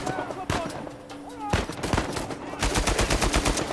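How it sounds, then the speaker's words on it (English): Gunfire in Uncharted 4: scattered single shots early, then a rapid automatic burst of evenly spaced cracks near the end, fairly close amid game noise. "I shot him before he got his grenade off"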